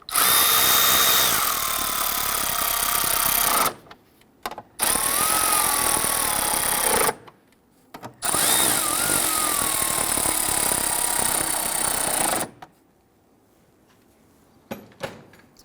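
A power tool drives and snugs down the bolts on the coolant reservoir of a 2008-2017 Buick Enclave 3.6L V6. The loud, close whirring comes in three long runs broken by short pauses, with quiet handling noise at the end.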